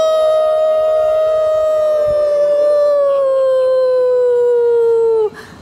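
An audience imitates a wolf howling at the moon during a spooky storytelling event by a river, making one long, loud, sustained vocal howl that slowly drops in pitch before cutting off.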